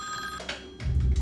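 A telephone rings in a short burst of bell-like tone, followed by a heavier low thump as the ring cuts off; fairly close and alone.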